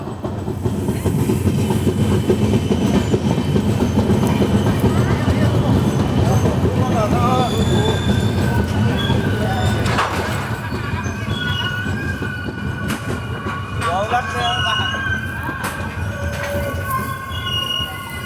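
A Visakhapatnam–Mumbai LTT superfast express rolls into Bagbahra station, its wheels clattering loudly and steadily over the rails with some squealing, while a voice talks over the din.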